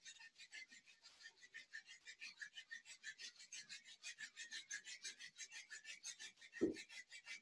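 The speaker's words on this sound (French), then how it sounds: "Frotte les mains, tu écoutes le son que tu crées avec tes mains." Hands rub briskly together in a steady back-and-forth rhythm, a soft close rasping swish repeating quickly throughout, with one brief thump near the end.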